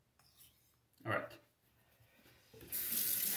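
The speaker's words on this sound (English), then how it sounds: "I'm gonna rinse off the stone again." Tap water runs over a Shapton 1500 sharpening stone being rinsed while honing a Gold Dollar 66 razor, a brief splash midway, then a steady loud stream of running water at the end.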